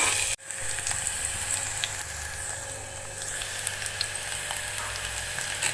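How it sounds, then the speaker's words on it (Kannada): Ingredients fry in a pan with a constant close sizzle and faint crackles, opening with a brief knock or clatter, no talking. "ಕೆಂಪಗೆ ಹುರಿಬೇಕು."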